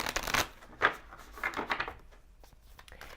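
Tarot cards are shuffled by hand in a few quick riffling bursts, close and soft, with quieter card handling and taps trailing off afterward.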